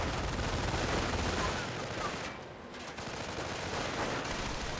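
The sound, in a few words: gunfire in Company of Heroes 1 video game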